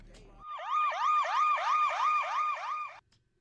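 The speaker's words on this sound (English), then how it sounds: "Then I added this siren from the police." A police siren sound effect in a beat made in FL Studio wails in a steady rising-and-falling cycle, about seven sweeps over roughly two and a half seconds, loud and close, then cuts off abruptly.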